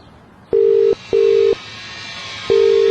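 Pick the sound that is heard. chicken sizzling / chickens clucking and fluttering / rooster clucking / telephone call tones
telephone call tones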